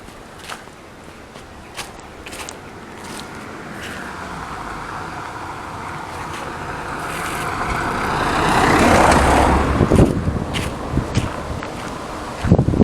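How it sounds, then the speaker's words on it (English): A car approaches along a road and passes, its engine and tyre noise swelling from a faint distance to a broad, louder rush near the end, with footsteps and rustling outdoors throughout. "Yeah, I can see a car coming."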